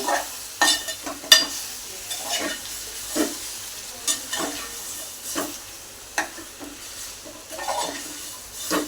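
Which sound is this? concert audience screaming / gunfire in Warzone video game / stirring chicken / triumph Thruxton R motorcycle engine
stirring chicken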